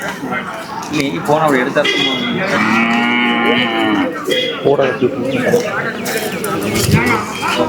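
A native-breed calf moos in drawn-out low calls at a weekly cattle market, close and fairly loud, while people talk nearby.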